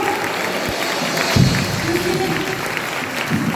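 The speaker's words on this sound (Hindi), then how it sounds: "उस अब्बा पिता के लिए ताली बजा के" A church congregation clapping during a Sunday worship service, a continuous spread of claps at moderate level with voices mixed in and a brief louder burst partway through.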